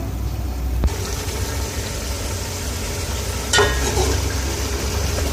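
Fish sizzling and being stirred in a pan for fish korma, a steady broad fry hiss near the mic with a sharp scrape of the spoon partway through, no talking.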